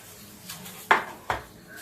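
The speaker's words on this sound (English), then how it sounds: "I'll use a glove and work this around in the pan." Peanuts are stirred around a pan by a gloved hand, with two sharp clacks against the pan standing out over a soft scraping rustle.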